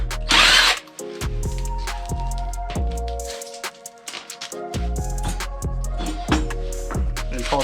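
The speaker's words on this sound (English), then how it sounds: "first things first, I'm gonna go ahead and remove the lug nuts." A power tool removes the lug nuts from a wheel of a 2007 Suzuki LTR 450 ATV, firing in several loud, short whirring bursts separated by brief pauses, close by.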